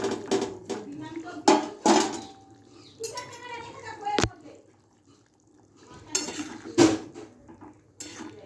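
Eggs added to a pan of potato and pointed gourd curry, with several sharp clinks of a utensil against the pan and soft sizzling and stirring, close by at moderate volume, interrupted by brief talk.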